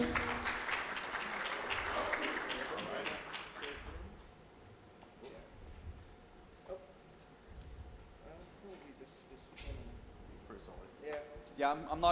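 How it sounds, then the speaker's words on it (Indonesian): Conference audience clapping at a network operators' meeting in Jakarta as a gift is presented. Dense applause for the first few seconds then quickly fades out, and a voice speaks quietly over the remaining room sound. "Boleh kita iringi dengan tepuk tangan tentunya."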